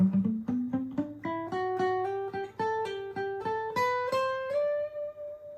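A plucked guitar plays a rising melody of single notes, each ringing briefly before the next, with a pull-off, clear and close with no talking.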